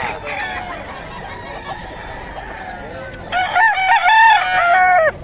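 Roosters crow in loud, harmonic bursts over a busy yard, one call stretching through the first seconds and a stronger, nearer crow rising near the end.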